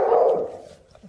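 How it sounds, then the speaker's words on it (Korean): An assistance dog gives one loud, sharp bark nearby, which tails off into a soft, brief whimper. "도우미관이 곧바로 큰 소리로 짖어 주위에 도움을 요청합니다"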